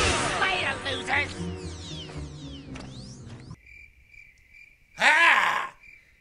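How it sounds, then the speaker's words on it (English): Crickets chirp in a steady, high-pitched stridulating tone through the second half, following a busier stretch of mixed sound, with a brief loud burst near the end. "You hear the sound of them crickets?"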